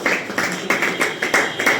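Audience at a DXN meeting clapping in steady rhythmic bursts, roughly three or four claps per second, close and fairly loud, with no voices over it.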